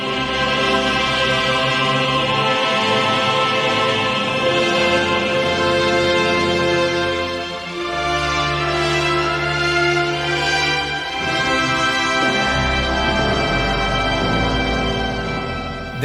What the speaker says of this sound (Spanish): suena grandioso el Santo Grial rodeado y custodiado por sus caballeros